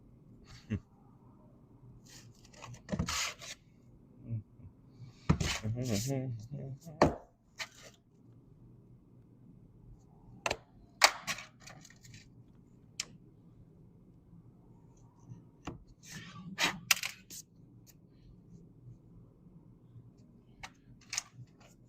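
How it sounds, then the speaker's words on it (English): Sandcasting work makes scattered scraping, tapping and crunchy handling sounds, sometimes in short clustered bursts with quiet gaps between them, close and moderately loud, with occasional breathing and no talk. "You could just listen to sandcasting ASMR"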